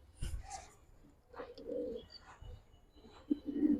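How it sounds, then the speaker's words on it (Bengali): A high flyer pigeon gives soft, low coos, a few short murmuring calls close by in an otherwise quiet space, with faint rustling between them. "বিশাল সাইজ কবুতর।"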